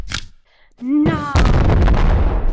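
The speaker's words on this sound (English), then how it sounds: "You can put normal RPG ammo in this rocket launcher" A rocket launcher fires in a video game, a short whooshing launch that rises into a sustained loud roaring blast.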